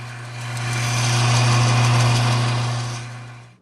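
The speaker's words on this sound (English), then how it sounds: "Then I use my belt sander to begin shaping the nut." Belt sander grinding a guitar nut: a steady, loud motor whine with a continuous abrasive rush, swelling up and holding level before tapering off, with no voices.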